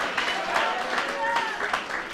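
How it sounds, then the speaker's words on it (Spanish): A church congregation applauding, a steady wash of clapping with voices and tonal sounds mixed in throughout. "Aplaudir pour le Seigneur."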